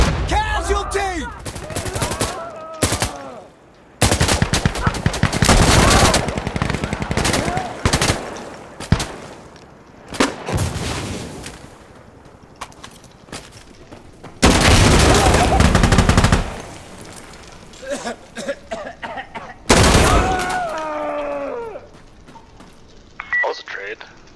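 Bursts of automatic gunfire from Insurgency Sandstorm, a tactical shooter played on the Outskirts map in Push mode, come in several loud, dense volleys with pauses between them, while voices talk and shout over the fighting.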